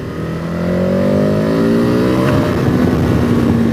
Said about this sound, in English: When you rev it, it does go.